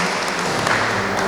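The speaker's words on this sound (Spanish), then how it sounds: "Démosle un aplauso a esta promesa que nos está dando." A church congregation applauds during a Spanish-language sermon on faith, a steady dense wash of clapping that fills the brief moment without any speech.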